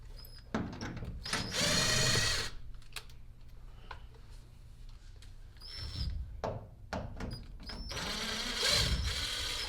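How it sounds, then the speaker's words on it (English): A power drill backs 3/4 inch screws out of L brackets holding the chine on a plywood boat hull, with several whirring bursts of the motor separated by pauses, clicks and handling noise, close by. "I'm just going to remove these 3/4 inch screws that I have in these L brackets that hold the chine on"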